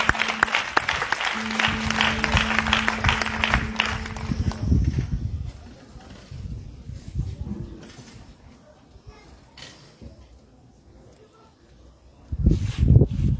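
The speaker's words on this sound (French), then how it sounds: "Acclame pour le Seigneur Jésus" Congregation at a church gathering during a fast applauding and cheering for Jesus, loud clapping and voices for about five seconds, fading to quieter murmurs, then a fresh burst of clapping at the end.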